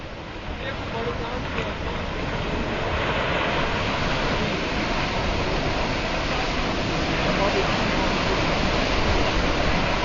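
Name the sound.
flash flood of water and rocks at Kanchenjunga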